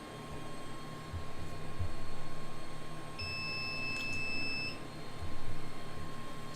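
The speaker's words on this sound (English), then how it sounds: "Just hit the 7-minute mark on the oven, and it should be nearing its time to beep." An oven timer beeps after a PCB board has been reflowed in it, giving one steady high electronic tone that holds for about a second and a half over a constant low hum.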